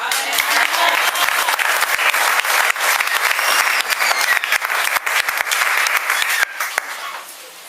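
Dense, sustained applause from a church congregation, loud and continuous with many hands clapping at once, easing off slightly toward the end.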